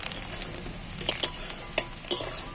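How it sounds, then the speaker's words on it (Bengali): Onions fry in a pan with a steady, close sizzle, while a utensil scrapes and taps against the metal a few times as they are stirred. "পেঁয়াজগুলো অনেকটা ভাজা হয়ে এসছে"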